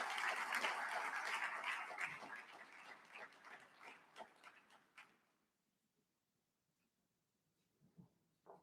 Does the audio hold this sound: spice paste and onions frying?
no